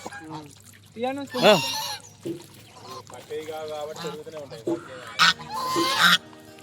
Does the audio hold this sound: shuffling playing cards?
no